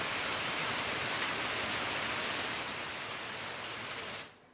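Rain mixed with hail pours down in Bahraich, India, a steady, dense hiss without a break that holds level and then fades out abruptly at the end.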